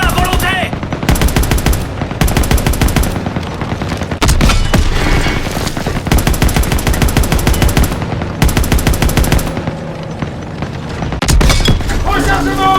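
World War II video game combat fills the space with sustained machine-gun bursts and rifle shots, loud and close, broken by brief pauses, with game voices and some booms mixed in.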